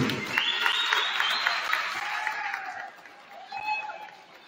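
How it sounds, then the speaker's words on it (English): Audience applause and light cheering for a performer at a university men's basketball senior night, strong at first, then gradually thinning out, with voices mixed in toward the end. "get another round of applause for Shaheen Wilkerson"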